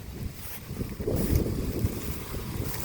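Strong gusty wind roars across the microphone outdoors while a kite is flown, a broad rushing buffet that swells and eases over a few seconds with no talk.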